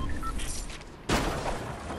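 A blue drum gun fires in a video game: a sudden loud burst of rapid gunfire starts about halfway through and keeps rattling to the end, following quieter game ambience.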